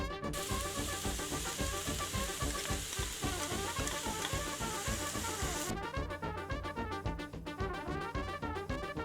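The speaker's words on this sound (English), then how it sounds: "Meanwhile, onions into the pan. Add tomato paste." Onions and tomato paste frying in a pan give a steady, close, loud sizzle with a dense crackle that runs the whole time, with no talking.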